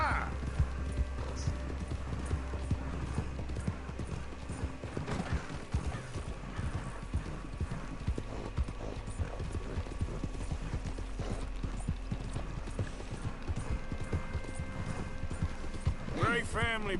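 Horse hooves clip-clop steadily in the video game Red Dead Redemption 2, a continuous rhythmic trotting under game music and mechanical noise, with someone speaking and a brief whinny-like sound near the end.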